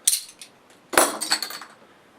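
The cap comes off a bottle of Rogue Voodoo Maple Bacon beer in a few sharp, close metallic clinks and pops against glass, followed by softer rattling taps.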